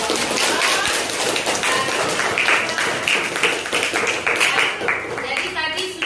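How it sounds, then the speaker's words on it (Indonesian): A classroom of students clapping in quick, dense hand claps for a presenting discussion group, loud and close, with a voice talking over the applause toward the end. "Kita beri tepuk tangan untuk kelompok."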